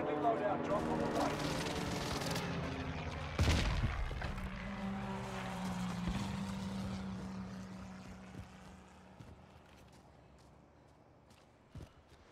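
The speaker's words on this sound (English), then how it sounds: "Enemy precision airstrike." Precision airstrike explosions in Call of Duty Warzone on the Caldera map rumble with a heavy boom and propeller-like aircraft drone, dense and loud at first and then fading away over several seconds.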